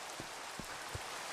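Minecraft rain falls as a constant hiss of drops, with a few soft low thumps scattered through it and no one speaking.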